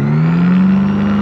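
A light aircraft engine throttles up during the takeoff roll, giving a loud, close, steady drone whose pitch rises slightly and then holds.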